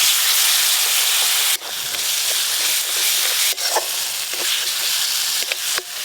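Ground mustard with dried and green chilli paste and a splash of water sizzle loudly in a frying pan, a steady close hiss broken by brief dips and sharp crackles as the mixture is stirred.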